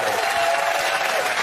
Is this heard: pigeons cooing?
no